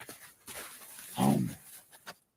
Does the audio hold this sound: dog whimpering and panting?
yes